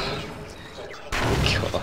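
Gunfire in the video game Half-Life Sven Co-op, a sudden loud burst of shots and blasts that swells abruptly over a quieter stretch of game noise, with a voice talking underneath.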